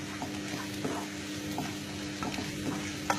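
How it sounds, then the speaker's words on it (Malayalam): Onions sautéed with turmeric, coriander and chicken masala powder for a chicken kurma sizzle steadily in a pan, with repeated scraping stirs roughly every second throughout. "അതുവരെ നമുക്കൊന്ന് വഴറ്റി കൊടുക്കാം"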